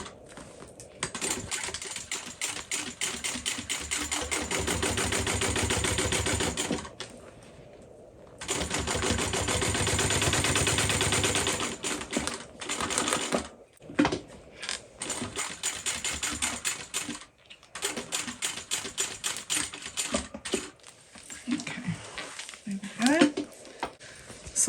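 A sewing machine topstitches a tote bag, the rapid needle rattle running in long bursts, then stopping and starting in shorter spurts, close by while a person talks at times.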